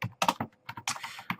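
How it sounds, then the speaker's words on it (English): Quick bursts of keystrokes on a computer keyboard, close and clear, in an irregular rhythm with short pauses between runs. "So I'm trying to type without looking at the keyboard."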